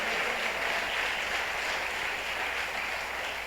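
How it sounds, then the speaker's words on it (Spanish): Applause from a church congregation, a dense, steady wash of many hands clapping continuously at moderate loudness without pause. "Si va a aplaudir, hágalo con fuerza porque es para el Señor, mi amado."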